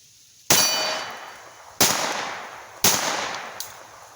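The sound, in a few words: C96 broomhandle .22lr pistol gunshot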